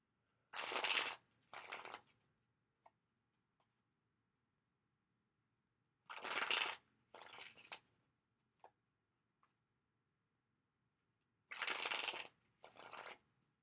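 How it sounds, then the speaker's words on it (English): Tarot cards are shuffled in three separate bursts, each a pair of quick riffling rustles, with soft taps and near silence between them. "I'm going to shuffle the cards"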